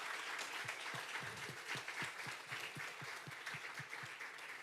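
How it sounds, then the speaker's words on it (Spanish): A church congregation at a Sunday service applauds, heard faint and distant, with a steady wash of clapping and a rhythmic beat of claps running through it. "si les damos un aplauso bien fuerte a aquellos que nos están viendo?"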